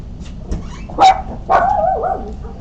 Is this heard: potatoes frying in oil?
no